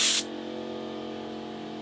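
A short sharp hiss of glitter spray paint from a can opens, then cuts off into a low steady hum for the rest, while painting a Mazda MX-5.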